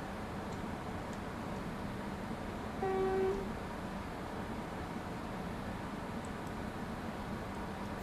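A Class 700 electric train pulls out of King's Cross in Train Sim World 2022, a steady low rumble and hiss of motion broken by one short tonal chime partway through.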